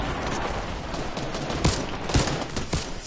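Infantry rifle fire in the video game Fortnite, a steady clatter of gunfire in a busy battle with several sharper, louder shots standing out near the end.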